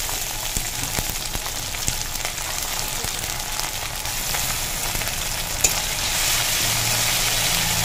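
Ginger-garlic paste frying in hot oil with fried onions and five-spice for a katla fish and teasel gourd curry, a steady close sizzle with faint stirring scrapes throughout.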